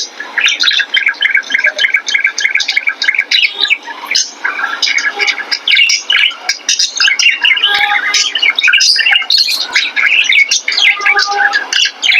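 Bird calls played from a mobile phone mix with pet birds answering indoors, a dense, loud run of rapid chirps, tweets and squawks that continues almost without pause.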